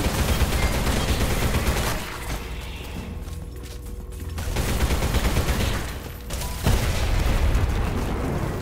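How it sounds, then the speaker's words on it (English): Gunfire in the video game Selaco, a sustained barrage of rapid shots and booms that dips into a quieter lull mid-way before the firing resumes loudly. "Where am I getting shot from?"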